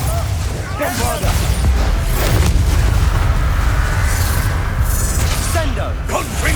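Bombarda blast spell in the video game Hogwarts Legacy: loud, dense booming explosions and crashing debris rumble continuously over several seconds, with a voice talking over the chaotic combat din.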